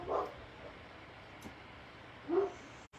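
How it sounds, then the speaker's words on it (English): Dogs outdoors give two short, muffled bark bursts at the start and near the end, distant and faint against quiet room tone. "My dogs are going crazy out there."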